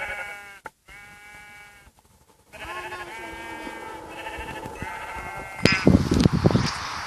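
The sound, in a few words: sheep bleating in a survival video game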